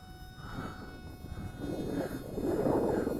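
Attop P01 Sky Soar three-channel RC airplane with its electric motor at throttle, a thin whining buzz with wavering pitch that rises and grows louder over a few seconds outdoors.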